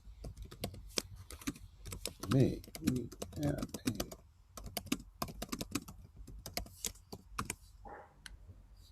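Computer keyboard typing in quick bursts of clicks, running close under people talking during an improvised game.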